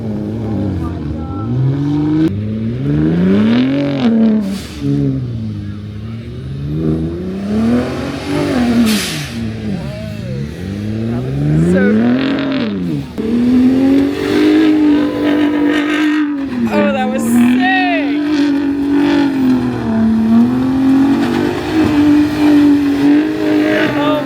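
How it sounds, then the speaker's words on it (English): Ford F-150 Raptor truck with a twin-turbo V6 of 450 horsepower revving hard off-road, engine note climbing and falling in repeated loud surges for the full stretch, with people talking over it. "the first truck we're gonna see going around this is a Ford F-150 Raptor"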